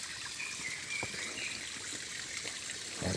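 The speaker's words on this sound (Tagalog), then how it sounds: "Ito, kuha tayo ng tubig dito." Water trickles steadily from a source while being collected, a soft continuous dribble with a few faint knocks, no voices.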